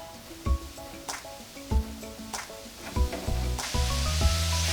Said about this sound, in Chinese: 在测试油温的时候呢，我们可以拿一根小的面团扔到锅里面看一下，它快速的浮起就可以了